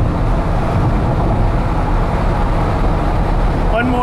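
A 1997 Dodge Viper with under 1500 miles, on a test drive at Laguna Classic, pulls through its gears under acceleration: a loud, steady engine and road roar heard from inside the car, without a break.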